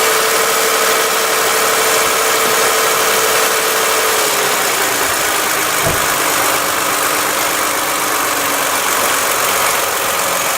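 A car engine runs at a steady high idle during a fuel injector cleaning with an adapter kit, a constant close mechanical hum and vibration with no one talking.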